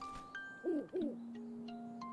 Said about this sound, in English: I didn't expect an owl.